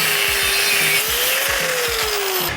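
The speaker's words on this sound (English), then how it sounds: "We have to remove the outer portion of the factory track bar bracket. So we're just going to come in and slice right along the top here" A power tool slices through a thin factory track bar bracket on a 2007-2018 Jeep JK, a loud, steady grinding whine with a shifting pitch and rhythmic rasping pulses, close and continuous.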